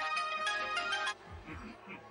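A mobile phone ringtone plays an incoming-call melody for about a second, bright and tonal, then cuts off, leaving low, muffled background sound.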